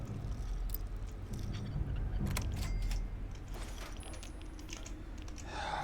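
Keys on a computer keyboard clack in quick irregular bursts during Fallout 3 play, close and crisp over a low rumbling game soundtrack.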